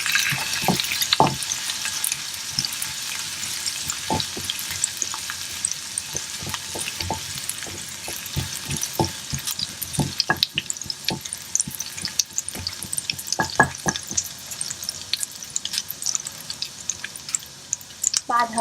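Half a small onion sizzles softly in about a spoonful of oil for a red sauce, a gentle steady frying hiss broken by scattered clinks and scrapes of a spoon against the pan.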